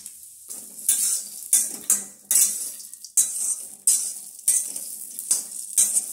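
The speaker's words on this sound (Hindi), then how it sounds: "अब डाल दिए मूंगफली" Peanuts sizzle as they roast in ghee in a pan, with bursts of stirring and scraping against the metal recurring every second or so. Close and fairly steady throughout, with no talking.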